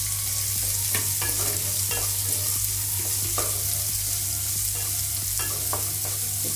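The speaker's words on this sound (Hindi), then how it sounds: "एक बड़ा प्याज जो हमने काट कर ले लिया था वो डाल देंगे। थोड़ा सा प्याज को फ्राई कर लेंगे हम।" One large chopped onion fries in a pan for bread tadka: a continuous close sizzle with repeated scraping stirs of a spatula and a low steady hum beneath, no talking.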